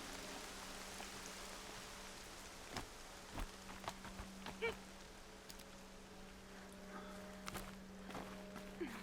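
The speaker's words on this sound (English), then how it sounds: "Oh, now it's raining?" Soft rain patters in the video game Horizon Zero Dawn, with faint footsteps crunching at irregular intervals over a low steady hum.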